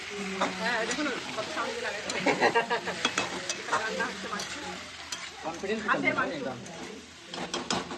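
Mutton cooks in a pan at a birthday party as a spoon stirs and scrapes it through a continuous sizzle, with clinks of utensils. People talk over the cooking.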